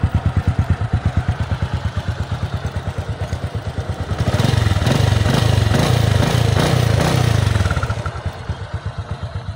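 An overhauled Honda XRM 125 motorcycle engine runs with a loud, rhythmic pulsing idle, swelling into a fuller, louder rev for several seconds before settling back to the steady idle.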